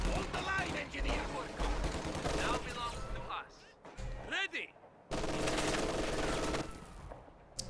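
MG42 machine-gun fire rattles in a World War II strategy game battle, dense bursts of gunfire and explosions filling the mix with a brief lull midway, while a commentator talks over the action.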